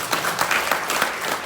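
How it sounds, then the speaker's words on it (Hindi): Audience applause from a gathered crowd, a short burst of dense, steady clapping, close and fairly loud with no talk over it. "तालियां बजनी चाहिए इनके लिए"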